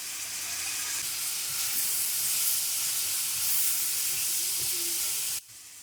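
Steady close sizzling hiss of spices roasting in a pan for mutton korma, a continuous bright frying sound that drops away abruptly near the end, with no speech.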